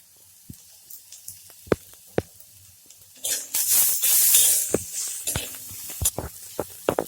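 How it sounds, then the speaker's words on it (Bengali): Onions and green chillies fry in oil in a pan. Scattered clicks and taps lead into a louder burst of hissing sizzle, followed by more intermittent crackles. "পেঁয়াজটা আর লঙ্কাটা লাল লাল করে ভাজা হয়ে গেছে"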